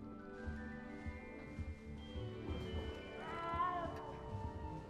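A frightened cat in Hogwarts Legacy meows and caterwauls in drawn-out, rising cries that are fairly faint and close, over soft game ambience.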